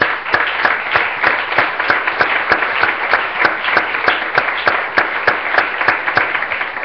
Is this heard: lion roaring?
no